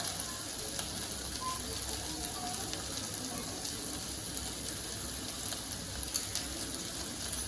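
Jackfruit seed gravy for kara kuzhambu sizzles steadily in a pan while being stirred, a dense, even frying hiss that holds constant throughout with no one talking.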